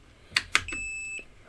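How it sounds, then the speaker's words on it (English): A BOBO VR D2 charging dock gives two short electronic chirps as its power cord is plugged in, followed by a steady sustained beep tone lasting about half a second, clear and close. "It gives a nice satisfying beep when you plug it in"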